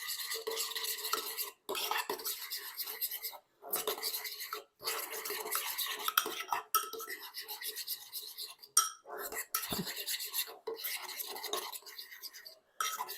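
A spoon stirring a mixture with grated Romano cheese in a bowl for a chicken parmesan sandwich, continuous scraping and rasping strokes close up, broken by brief pauses.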